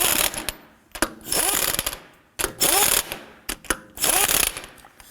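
A ratchet snugs the lug nuts on a 2005-2009 Subaru Legacy front wheel in a star pattern, giving repeated close bursts of rapid clicking separated by short pauses.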